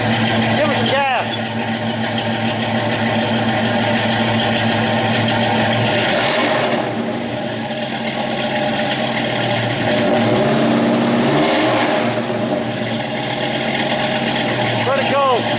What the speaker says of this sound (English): Truck sounds pretty mean now